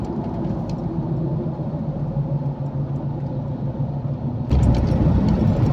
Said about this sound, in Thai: วันนี้รถก็หนาแน่น เดี๋ยวนี้ตัวเมืองสุรินทร์ก็รถเยอะนะครับทุกคน